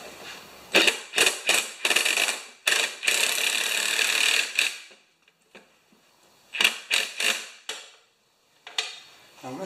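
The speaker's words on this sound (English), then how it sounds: "I'm going to just see what that feels like with a ratchet" Ratchet clicking in quick bursts while tightening a bolt on a Craftsman EZ Walk mower, several close, crisp runs of pawl clicks separated by short pauses.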